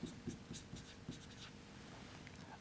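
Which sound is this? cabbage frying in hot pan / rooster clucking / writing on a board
writing on a board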